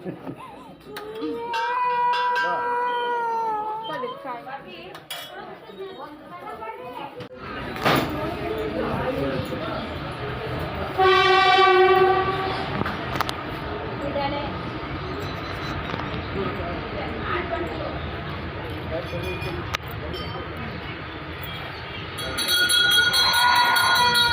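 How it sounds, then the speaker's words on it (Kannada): A loud, continuous rumble of a train passing close by a closed level-crossing gate, with a brief horn-like tone partway through, after a stretch of people talking. "ಟ್ರೈನ್ ಬರ್ತಾ ಐತೆ. ಇದು ಗೇಟ್ ಹಾಕಿದ್ದಾರೆ."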